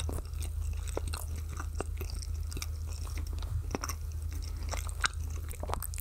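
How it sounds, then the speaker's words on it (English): A crunchy sandwich is chewed close to the mic, with repeated crisp crunches and bites over a low steady hum, loud and intimate in an ASMR style. "I'm still chewing."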